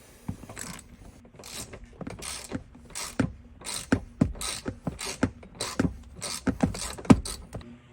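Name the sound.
removing T47 seatbelt retractor bolt in a Camaro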